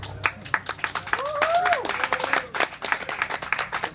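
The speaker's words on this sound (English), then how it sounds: "Sometimes people clap" Scattered clapping from a small outdoor audience at an Everglades alligator show, uneven sharp claps mixed with crowd chatter and a brief whistled or vocal tone in the middle.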